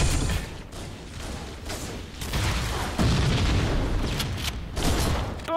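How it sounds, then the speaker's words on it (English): Deep booms and rumbling blasts from the video game Halo 1 come one after another with crackling debris, dense and chaotic, explosions going off everywhere. "Explosions everywhere!"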